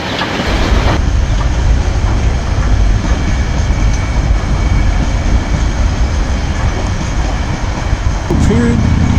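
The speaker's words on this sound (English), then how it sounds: "Just caught the train going through, right on the coastline." A train rumbles steadily past nearby along the coastline with a loud, continuous roar and faint rhythmic clatter, a brief higher tone near the end.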